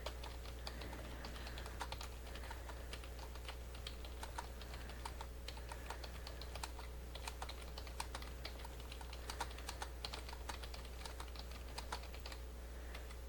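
Quick, steady keystrokes on a computer keyboard during a typing speed test, a dense run of light clicks over a low electrical hum, close and fairly quiet with no speech.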